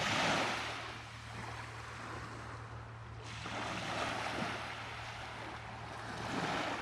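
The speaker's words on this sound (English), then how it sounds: "Beautiful beach." Waves washing onto a beach beside a campground on the North Coast Trail, a broad continuous surf roar with gentle swells and some wind noise, steady and moderately close with no talking.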